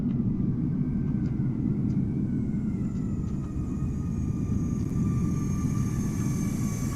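Arriving aircraft at Amsterdam Schiphol in Microsoft Flight Simulator, heard as a steady low jet rumble and roar that stays constant and fairly loud throughout, with no speech.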